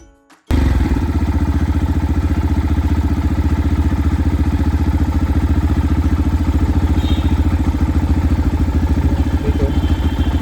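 A vehicle engine idles steadily during an engine load test read on an OBD scanner, starting after a brief moment of quiet and then running with an even, close mechanical clatter throughout.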